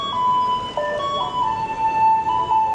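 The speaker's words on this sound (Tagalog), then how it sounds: "Truck ng basura nila, guys." A garbage truck in Taiwan plays its melody on a street: a clear electronic tune of sustained tonal notes rising and falling, moderately close, with faint traffic and ambient noise underneath.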